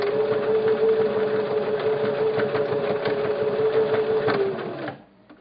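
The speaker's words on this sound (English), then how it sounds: "I'm just going to sew probably about a ½ inch, and then back stitch it a couple times so I'm sewing over that elastic" A sewing machine stitches steadily over elastic in a cloth diaper, a close, continuous whirring hum with a rapid mechanical patter that slows and stops near the end.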